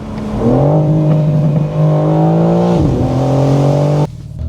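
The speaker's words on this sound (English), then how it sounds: "This car is way louder than cars before OPF, despite its having OPFs." A 2025 BMW M4 Competition LCI, 530 hp with particulate filters and set to Sport Plus, revs loudly and close, its engine and exhaust droning in a rising tone with a brief dip before cutting off sharply near the end.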